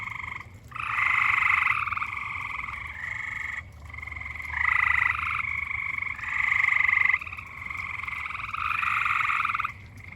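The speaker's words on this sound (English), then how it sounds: "So all these little frogs making all this big noise." Tree frogs and toads croak loudly in a backyard habitat on a summer night, overlapping pulsing calls that rise and fall in repeated rhythmic bursts, close and dense with no talking.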